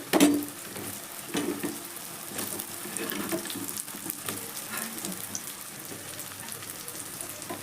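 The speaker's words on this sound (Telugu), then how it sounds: "చూడండి, ములక్కాడ ముక్కలు వేస్తున్నాను" Drumstick pieces dropped into onions frying in oil, a sharp splash of sizzle at first, then continuing frying crackle with a few clattering stirs.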